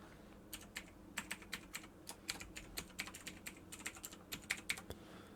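A computer keyboard being typed on to enter an email address: a steady run of close, crisp key clicks in uneven bursts over several seconds, quiet against a faint background hum, with no talk.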